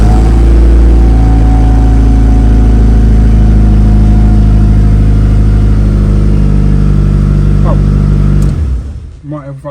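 A Mitsubishi Evo 5 RS rally car engine runs loud and close with a steady, deep mechanical drone, then cuts out abruptly near the end, leaving a brief quieter tail.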